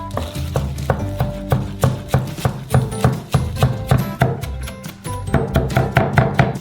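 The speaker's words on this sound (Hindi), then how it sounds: "बेबी स्पिनच यहां आइडियल है, इसे छोटा काटेंगे।" A knife chops baby spinach on a cutting board in quick, steady strokes, several per second. The close, crisp taps repeat evenly over soft background music.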